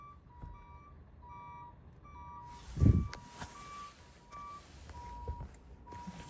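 A truck reversing early on a Saturday morning, its backup alarm sounding a steady series of evenly spaced beeps at moderate distance, with a low thud and a brief rumble partway through.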